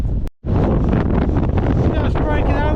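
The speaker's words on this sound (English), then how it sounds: "it's really windy still" Strong gusty wind on a mountain path up Y Lliwedd buffets the microphone in a loud, continuous roar, briefly dropping out before surging back, with faint talk beneath.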